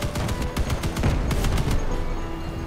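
Rapid bursts from a Spectre-2 machine gun in the vehicle combat game Crossout, a quick string of sharp cracks that stops abruptly near the end and leaves a fading tail.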